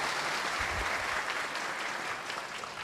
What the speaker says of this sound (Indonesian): Kita sambut dengan tepuk tangan untuk Buya Yahya.